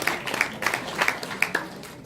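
An audience at the UC Briochine cycling club season presentation in Saint-Brieuc gives light, scattered clapping for a junior cyclist. Sparse individual claps sound at an uneven rhythm over a soft room background.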